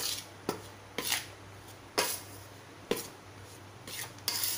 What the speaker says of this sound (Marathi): सगळ्या मैद्याला हे पूर्ण गरम तेल लागलं पाहिजे. हे असं चोळून घ्यायचं आहे छान.